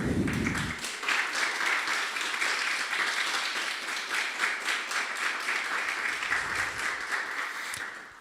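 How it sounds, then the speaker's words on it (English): An audience at a climate accelerator demo day gives the organizing team a warm round of applause, steady sustained clapping at moderate level that follows a brief bit of voice at the start and runs on evenly. "I want to give them a warm round of applause"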